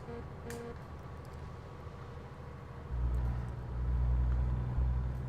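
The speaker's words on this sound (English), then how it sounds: "What's with this traffic?" Road traffic rumbles around the cab of a truck, a low steady drone that swells louder partway through as vehicles pass close by, with a faint short tone early on.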